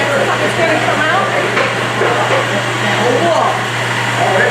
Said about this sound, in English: What you mix in that mixer right there.